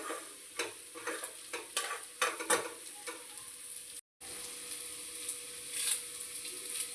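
Guthi vankaya, a stuffed eggplant curry, sizzles in a pan while being stirred, with a steady frying hiss and a run of scraping strokes early on, then a brief dropout before the sizzle carries on alone.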